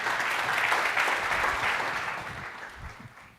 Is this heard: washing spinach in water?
no